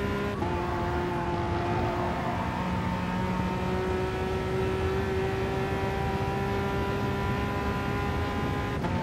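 Race car engine in the Gran Turismo Sport video game on the Sardegna Road Track, a loud continuous roar with rising and falling whining pitch as gears shift, with no voices over it.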